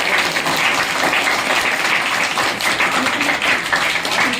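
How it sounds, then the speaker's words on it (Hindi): A crowd at a primary school event applauds loudly and continuously, a dense close clapping that never pauses, with no voices heard over it. "हम सब लोग देख जा सकते हैं तालियों की गड़गड़ाहट से"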